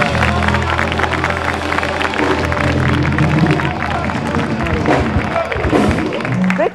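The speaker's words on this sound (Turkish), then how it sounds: "Bir moral alkış alalım Bülent" A television talk show studio audience applauds for a guest named Bülent, loud continuous clapping mixed with crowd noise and a band or music bed underneath throughout.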